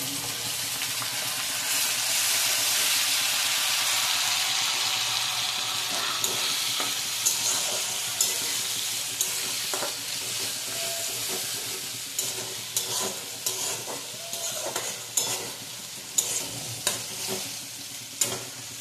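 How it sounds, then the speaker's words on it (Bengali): Onions and ginger-garlic paste fry for a fish curry, giving a steady, close sizzle that eases as the pan settles, while a spoon stirs and scrapes in repeated clinking strokes through the second half, with no talking. "পেঁয়াজটা খুব লাল করে ভালো করে ভেজে নিয়ে তারপরে আস্তে আস্তে সব মশলা দেবো।"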